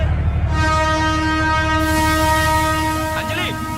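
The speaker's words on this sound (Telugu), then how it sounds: "ట్రైన్ మూవ్ అవుతుంది" A moving train sounds a long, loud, steady horn over the low rumble of its wheels, with voices faintly audible underneath.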